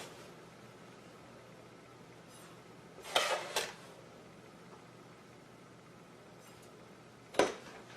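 Sugar goes into a pot for a Japanese fruit cake with a scoop: a quick pair of scraping, clinking knocks in the middle, then one sharp metallic tap later, over a quiet kitchen hiss.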